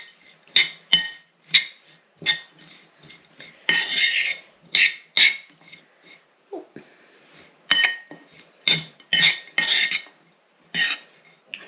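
A utensil clinks and scrapes against a bowl in sharp, repeated strokes while parsley is mixed into food, with separate bursts of clatter and brief pauses between them.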